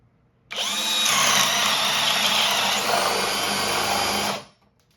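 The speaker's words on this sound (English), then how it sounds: "we're going to start it out with a 3/4 spade bit here to get this testing underway" A Bosch 18V hammer drill bores with a 3/4 inch spade bit, giving a loud, steady whine and grind for about four seconds before stopping abruptly.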